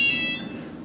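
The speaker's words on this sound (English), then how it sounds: "Oh, that sounds like a phone." A short electronic phone ring or buzzer tone sounds briefly and fades quickly, heard on its own without speech during an improv sketch.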